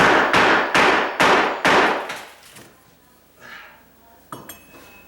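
A claw hammer chips at the concrete sub base of a tile counter, four loud close ringing strikes in a steady rhythm, followed by quieter scraping and a final light knock.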